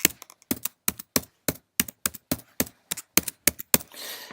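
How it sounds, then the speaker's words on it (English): Fingers type on a computer keyboard while a password is entered, about a dozen crisp, evenly spaced keystrokes close up, ending in a short burst of hiss. "I think I'm typing it wrong."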